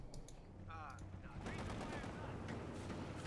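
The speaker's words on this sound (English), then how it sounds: "Black half taking the hits from the M20 and its 50 cal. Machine gun" A .50 cal machine gun on an M20 armored car fires in Company of Heroes 2, sustained bursts rattling under battle noise while a voice talks over it.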